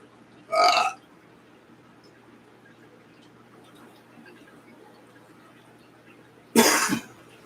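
Two loud, short burps after drinking soda, one early and one near the end, separated by a quiet stretch of room noise.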